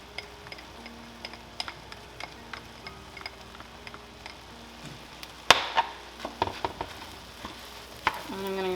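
A spatula stirs rice in a hot frying pan for omurice, with a steady sizzle under repeated scraping clicks and taps, and a sharper clatter of knocks toward the end.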